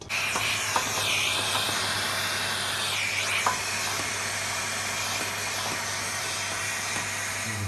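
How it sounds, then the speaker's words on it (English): A Hoover vacuum cleaner sucks dust from inside a radiator, making a steady, fairly quiet airy hiss with a constant low hum, broken by brief scraping sweeps as the nozzle moves. "One thing you can do use Hoover to remove this."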